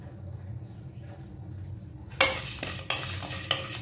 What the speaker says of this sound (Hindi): ये जितने भी मसाले जो हमने अभी प्लेट में निकाले हैं ये सब हम डालेंगे इस कढ़ाई में